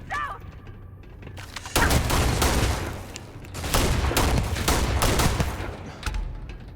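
A firefight in Starfield erupts into loud, rapid gunfire, with a quieter lead-in giving way to dense overlapping volleys and repeated cracking bursts close at hand.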